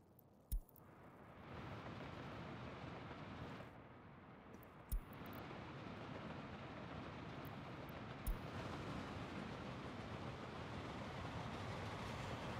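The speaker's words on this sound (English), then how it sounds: "We have a train." A train pulling in within the Soviet-era city-building game Workers & Resources: Soviet Republic, a low steady rumble swelling after a few clicks and holding on, faint and without speech.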